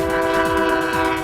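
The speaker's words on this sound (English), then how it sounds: "Don't get used to the horn honking though." A commuter rail train sounds its horn at a level crossing during line testing, a loud sustained multi-tone blast held throughout, with faint wheel and rail rumble beneath.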